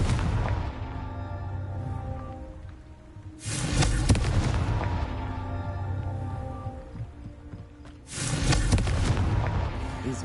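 Confringo spell blasts in Hogwarts Legacy: two loud, booming explosions with crackling, rumbling tails, each rolling out for several seconds over a steady low background.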